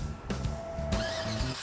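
A pickup truck engine cranks and catches after a key fob remote start, a brief starter whir followed by the engine settling into an idle, heard up close.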